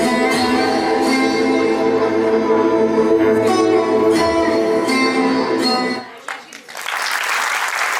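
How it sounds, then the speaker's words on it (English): An audience applauds after an annual day dance performance, steady clapping layered over the tail of loud music, which cuts out near the end and leaves a brief burst of bright, crowded clapping. "Big clapping, everyone, please."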